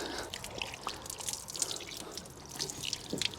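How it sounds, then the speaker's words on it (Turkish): Hands being washed under running water: a faint, continuous trickle with scattered splashes and drips, fairly quiet and with no speech. "Biraz daha yıkayayım elimi şöyle."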